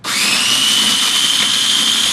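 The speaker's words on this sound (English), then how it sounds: "All we need to do is grind them down. So I'm going to turn these chili pods into a powder" An electric grinder whirring as it grinds dried chili pods into powder for a Thai chili paste, a loud steady motorised whine starting abruptly and holding constant throughout.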